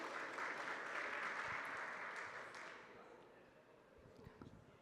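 Audience applause at a Brazilian medical informatics conference in São José do Rio Preto as a speaker is welcomed to the stage, a dense steady clapping that fades gradually toward the end.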